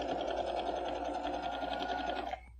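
A sewing machine stitches fabric for quilt prairie points, a fast steady whirring patter close up and loud for over two seconds before stopping abruptly near the end.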